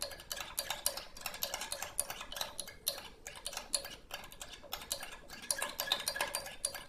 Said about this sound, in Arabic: تقعد تقلب لغاية ما الرغاية كلها تتلم في النص كده